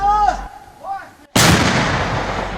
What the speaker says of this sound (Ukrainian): Так зблизька звучить гвоздика.